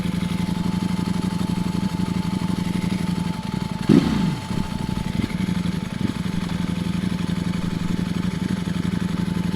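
Ducati V4 SP motorcycle on a test ride, its engine holding a steady loud drone with wind noise, then dipping briefly as the throttle eases and picking back up.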